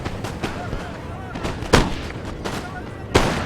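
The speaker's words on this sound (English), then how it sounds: "Let's zoom in here and see the firing" Musket volleys and artillery boom in a Napoleonic battle video game, a dense run of sharp cracks and heavier thuds with a couple of louder blasts standing out, faint voices mixed in.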